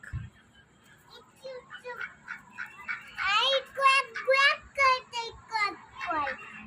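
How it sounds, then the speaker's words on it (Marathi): A run of nasal duck quacks, repeated in quick bursts close by, following some quieter chatter from people nearby. "क्वॅक क्वॅक करताय"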